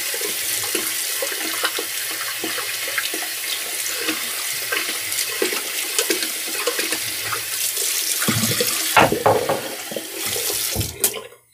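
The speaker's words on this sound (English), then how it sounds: "Rinsing my brush out." Water from a tap runs steadily while a shaving brush is rinsed under it, with splashing and sloshing that swells toward the end before the flow cuts off. No voices.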